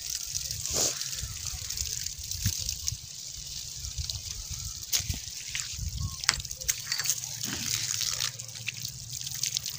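Water trickles and sloshes through a domestic water pipe line under repair, with irregular drips and splashes close by while someone talks over the flow.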